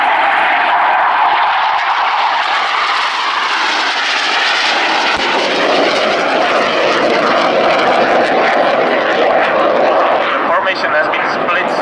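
An aircraft roars loudly during takeoff at an air show, a sustained broad engine rumble that shifts in pitch as it climbs away, with a commentator talking over it.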